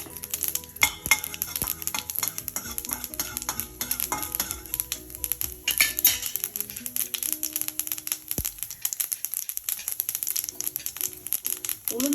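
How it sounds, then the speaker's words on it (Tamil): Mustard seeds and urad dal crackle and sizzle in hot oil for a Tamil green gram sundal, with a dense run of fast pops and spits, occasional spoon stirring and pan clinks, close and steady with no talk. "எண்ணெய் காஞ்சதும் கடுகு போடுங்க. கடுகு கொஞ்சம் பொரிஞ்சதும் உளுந்து ஆட் பண்ணிடுங்க"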